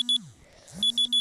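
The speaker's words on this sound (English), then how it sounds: "Alarm!" An electronic alarm goes off indoors during a mobile game session, sounding quick high beeps in short bursts separated by a brief pause, clear and fairly loud with no speech.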